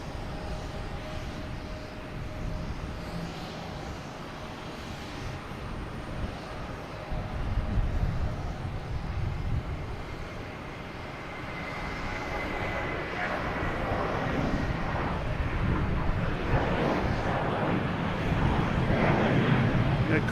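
A Spirit Airlines airliner on runway 22 right at Boston Logan, a distant steady jet roar swelling louder over twenty seconds, with wind buffeting the microphone outdoors.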